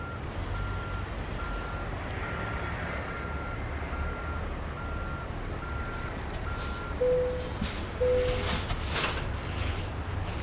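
A truck in American Truck Simulator backs into a trailer, its reversing alarm beeping in an even, repeated pulse over a low diesel idle, followed by two short, louder tones near the end.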